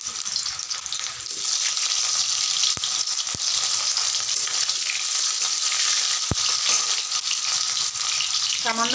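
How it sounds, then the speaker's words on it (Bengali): Potatoes go into hot oil for Bengali chicken kosha and sizzle loudly and continuously, a bright frying hiss with a few sharp clicks from the pan. "তেল গরম হয়ে গেছে, আমি আলুগুলোকে দিয়ে দিচ্ছি।"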